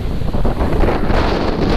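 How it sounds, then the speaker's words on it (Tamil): Strong coastal wind at Dhanushkodi, India, buffets the microphone with a loud, continuous roar, with a faint wash of surf underneath. "காற்று ஓவர் அடிக்குது."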